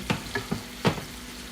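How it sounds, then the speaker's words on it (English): Chicken pieces frying in a pan for Jamaican brown stew chicken give off a few short, close crackling sizzle bursts over a low, steady background hiss. "It just means I have to give it a little bit more time to fry."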